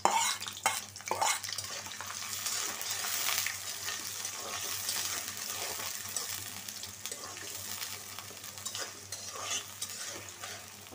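Onions frying in hot oil for spicy chicken curry, a sustained close sizzle with repeated stirring scrapes and occasional utensil clinks, steady throughout with no talk.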